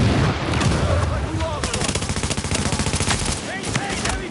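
Automatic gunfire in Tom Clancy's The Division, rapid rhythmic bursts that crack out in a steady stutter after an opening stretch of mixed shots and clatter, loud and close, with voices shouting in the mix.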